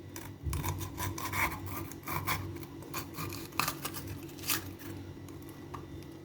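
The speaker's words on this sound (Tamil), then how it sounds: "இப்போது இதில் சென்டரில் உள்ள பகுதியை மட்டும் இந்த மாதிரி நம்ம கட் பண்ணி எடுத்துக்கலாம்" A knife cuts out the center of a capsicum (bell pepper), giving quiet rasping, scraping strokes in an uneven rhythm, close up with no talk.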